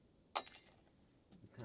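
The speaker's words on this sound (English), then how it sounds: "glass crash sound" A glass crash sound effect layered into a beat: one sharp bright shatter with a short tinkling tail, followed by a fainter second clink near the end, close and fairly quiet with no voices.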